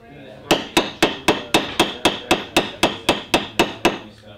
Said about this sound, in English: So, rawhide mallet.